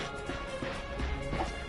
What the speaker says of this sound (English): The Lombax displayed a flagrant disregard for public property. Look at him, smashing crates.